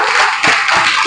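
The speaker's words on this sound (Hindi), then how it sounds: "तो उनके लिए ताली बजवा दो एक बार" An audience at an indoor development training program gives a brief burst of dense, steady applause, loud and close.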